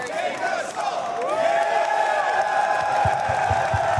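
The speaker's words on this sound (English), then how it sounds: "Crowd's chanting Keikasal." Large crowd at the EVO 2026 fighting game event chanting and roaring in unison, a sustained, loud, voiced swell with rhythmic claps or stomps near the end.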